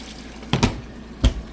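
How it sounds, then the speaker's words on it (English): A GE 2.8 cu ft washing machine fills with water, giving two short splashing gushes of water running into the drum, each closely followed by a fainter trickle. "you see it's running the water through that and into the clothes"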